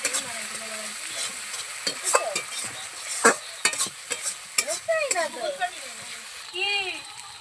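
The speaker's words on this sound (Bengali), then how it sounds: "জিরে বাটাটা দিয়ে ভালো করে কষে এবার লবণ দিয়ে দিলাম" Chicken pieces being sautéed with ginger and cumin paste, sizzling in a pan under irregular spatula scrapes and knocks, close by, with a few brief tonal squeaks and clinks and a voice talking at moments.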